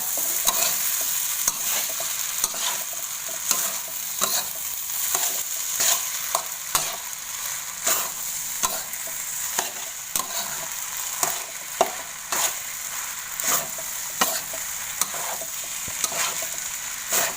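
Rice mixed with real pandan leaf juice is stirred in a pan, a continuous wet sizzle with rapid, regular scraping strokes of the utensil, loud and close, with no voices.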